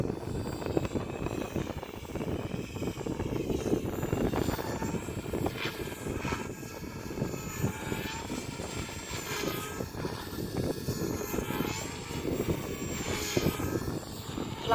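Radio-controlled helicopter performing aerobatic stunt flights on a windy day, its rotor and motor drone steady and fairly loud throughout, with pitch swells and whines rising and falling as it maneuvers.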